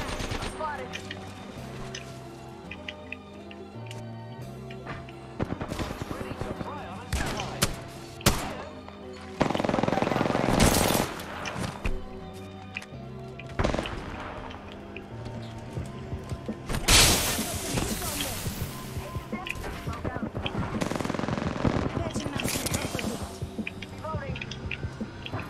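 Gunfire in the video game Apex Legends, with bursts of rapid shots and single cracks scattered through a busy mix of game sounds and music, while players talk over it.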